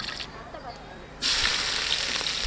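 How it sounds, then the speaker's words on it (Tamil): Chicken pieces drop into hot oil and fry, cooked outdoors beside a river; after a quieter moment with faint voices, a sudden loud, steady sizzling hiss bursts in and carries on close up. "சிக்கனை பொரித்து எடுத்துக்கலாம்."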